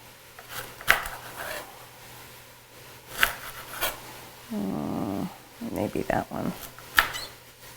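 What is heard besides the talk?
chopping vegetables for coconut curry soup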